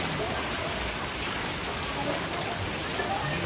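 Dense, steady downpour of heavy rain at night, a constant loud hiss with no gaps, close by, on a flooded road.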